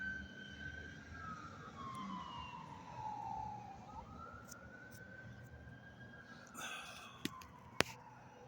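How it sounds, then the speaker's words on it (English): An ambulance siren passing at a distance, a faint wailing tone sliding down as it goes by and then holding, with a couple of sharp knocks near the end. "there goes another fucking ambulance catering to old folks"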